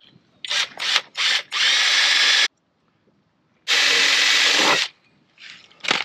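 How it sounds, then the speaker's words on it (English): A power drill with a 9/32 bit bores into a bumper, whirring loudly in several short bursts followed by two long sustained runs, separated by brief silences. "This is a 9/32 drill. It's the same drill bit I'm going to use in the frame."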